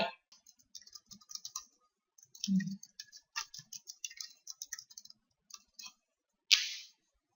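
Crisp, sparse computer clicks while working in Camtasia Studio, scattered in quick irregular bursts with one louder snap near the end and silence between.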